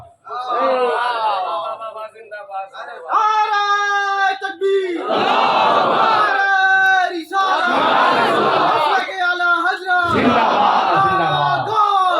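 A large crowd at a religious gathering roars a slogan in unison, with loud sustained bursts of massed voices alternating with a single leading voice, close and powerful.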